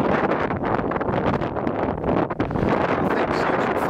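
Strong gusts buffet the microphone on a dusty hillside trail at Rhyolite, a loud, unbroken low rumble and roar with no voices over it.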